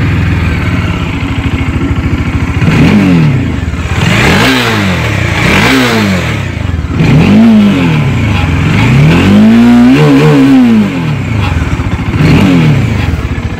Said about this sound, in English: let's come and see the exhaust note of these two bikes